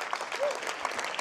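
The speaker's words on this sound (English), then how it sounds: "please feel free to clap between these names" An audience claps at a graduation awards banquet, a steady, dense patter of many hands in a hall, continuing evenly with a voice faintly present underneath.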